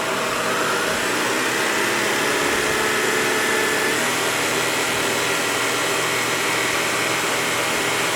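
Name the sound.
Shark cordless vacuum cleaner running on low carpet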